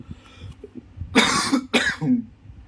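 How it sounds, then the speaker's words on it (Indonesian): A man in a motorcycle CVT repair garage coughs twice in quick succession, loud and close, with harsh bursts, followed by a smaller throat-clearing sound over light background noise. "saya udah mulai batuk-batuknya udah mulai rada nemen"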